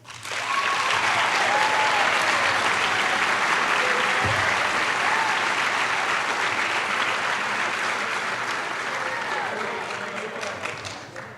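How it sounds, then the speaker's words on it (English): Sustained audience applause at a high school senior recognition ceremony, dense clapping from a large crowd in a hall that starts abruptly and holds loud for about eleven seconds before easing slightly. "Please give a round of applause for Taylor Knutson."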